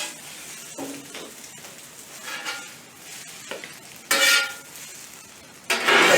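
Eggs frying on a flat-top griddle for fried rice, a steady sizzle broken by scraping and stirring strokes of a metal spatula, with a few louder bursts of hissing.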